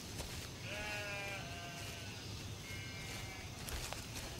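Sheep bleat several times in drawn-out, wavering calls over a faint outdoor background, with a brief clatter near the end.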